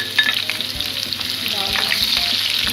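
Green chillies, ginger and cumin frying with browned onions for chana dal gosht tempering, a close, loud sizzle with quick spoon stirring scrapes, no talking.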